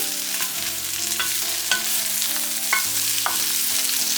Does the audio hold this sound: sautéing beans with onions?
yes